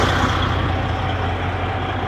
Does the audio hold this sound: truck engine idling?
yes